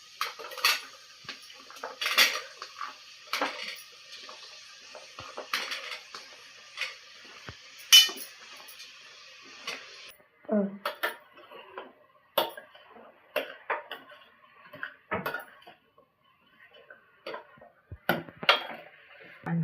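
Bottle gourd pieces are stirred in a cooking pan for a curry, with irregular clinks and scrapes of a spoon against metal, moderately near, sometimes over a light sizzle that drops away partway through, with quiet gaps between strokes.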